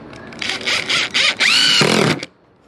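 A power driver sinks a self-tapping deck screw with a sliced tip into wood, its motor whining in several short loud bursts that rise in pitch, then a final longer run ending abruptly into quiet.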